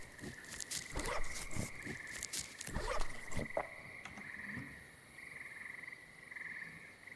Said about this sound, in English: I've never lived in a region that had loud frogs, so for me it just sounds kind of like nice and calming